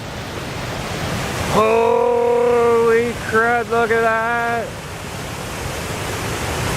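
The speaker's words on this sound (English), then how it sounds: "remember folks, rushing water scares the bejesus out of me" Rushing floodwater roars as a steady, loud wash of noise from start to finish, while a man briefly exclaims over it near the middle.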